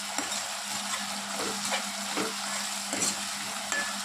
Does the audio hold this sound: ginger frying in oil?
yes